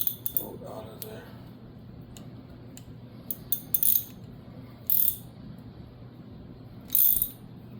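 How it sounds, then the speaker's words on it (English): Hand tools working a bolt out of a mini bike motor: scattered metallic clicks and ratcheting, with several short bright scraping bursts spaced apart over a low steady hum in a quiet workshop. "Get this bolt out of there."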